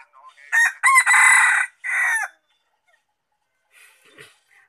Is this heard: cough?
no